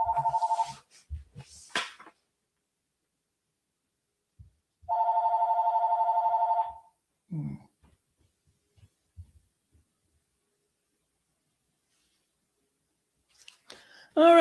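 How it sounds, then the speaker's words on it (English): A telephone rings for an incoming call indoors, two separate bursts of an electronic trill spaced a few seconds apart amid quiet, with brief soft noises between and another ring starting at the very end. "we have a phone call coming in. I think we could just pause and wait for that to go to voicemail."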